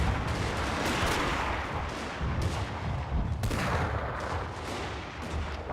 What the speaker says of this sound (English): The last bombardment is going off when their troops are all clumped together.